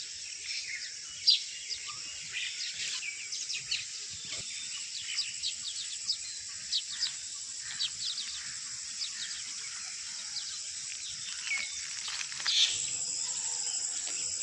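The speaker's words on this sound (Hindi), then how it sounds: "ये सारे के सारे परिंदे मैना हैं।" Myna birds call at a village market in Pakistan, a constant high chirring and chattering chorus with scattered sharper calls and faint thumps underneath, no speech.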